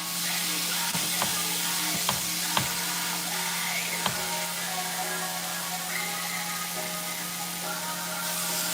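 Pieces of meat sear hard in a hot pan with a loud, steady sizzle that stays constant throughout, broken by a few sharp clicks and scrapes as the pieces are stirred.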